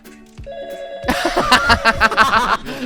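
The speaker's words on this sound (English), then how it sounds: "can you hear the phone?" A telephone rings with a trilling electronic bell in repeated bursts, loud and close, following a short musical jingle at the start.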